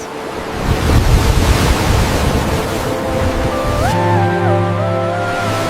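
Ocean waves surge and wash close by under gusting wind, loud and continuous, while a sustained musical tone joins in toward the end.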